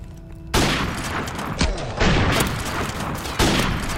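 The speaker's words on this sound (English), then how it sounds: "Ooh, three shots and I took him out." Gunshots in Call of Duty 4 Remastered gun game, a few loud close blasts in quick succession after a quiet start, each followed by ringing decay.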